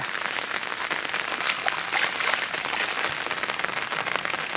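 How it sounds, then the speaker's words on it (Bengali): Heavy rain pours down steadily, a dense, even hiss of drops striking surfaces, mixed with rainwater running and flowing nearby, with no voices. "দেখেন এত বৃষ্টি হয়েছে এই তো এই দেখবেন বৃষ্টি পানি নামতেছে"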